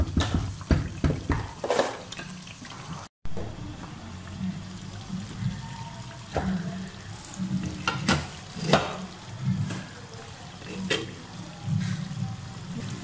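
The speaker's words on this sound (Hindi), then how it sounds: "इसे लो फ्लेम पे पकने दूंगी" White chicken korma simmers in a pan on a low flame, giving a soft, steady bubbling sizzle with intermittent stirring knocks and scrapes, fairly quiet and close.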